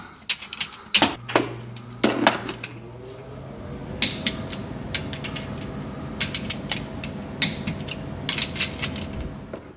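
A wrench rechecking the tightened differential cover bolts on a 2002–2007 Jeep Liberty, with sharp metallic clicks and ratcheting bursts close by, along with creaks and faint clanks between them.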